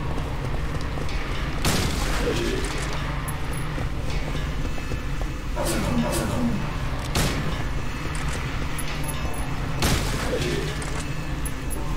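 Loud shotgun blasts from the Silent Hill 3 video game, three heavy booms spaced a few seconds apart over a constant dense game soundtrack.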